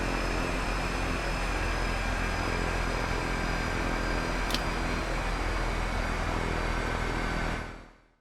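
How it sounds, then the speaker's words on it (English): Simulated gyroscopes and motors in a Black Square Duke twin-engine aircraft cockpit in a flight simulator: a constant, loud, broadband whirring hum with steady tonal whine, one brief click midway, then a quick fade out at the end. "you'll be able to hear the subtle sound differences of the simulated gyroscopes as the temperature drops"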